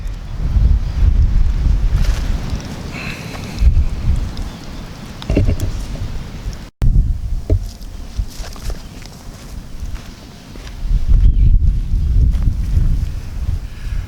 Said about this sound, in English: I think I'm fighting a little bit against the wind here